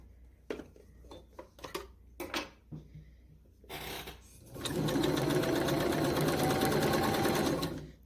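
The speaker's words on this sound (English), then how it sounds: "So now that we have sewn down the seam allowance on the inside" A sewing machine stitches down the inside seam allowance of a pleated dress, starting with a few scattered clicks and short bursts, then a loud, steady, close whirring run of several seconds before stopping.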